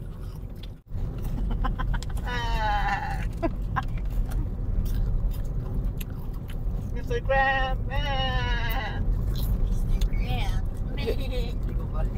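A person imitates a goat's bleat twice with a wavering, quavering voice, amid other voices and background chatter.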